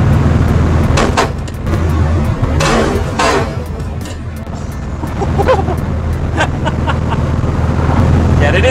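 A classic VW Beetle engine drones loudly and steadily from inside the car while driving, with brief knocks and rattles over it and people talking now and then.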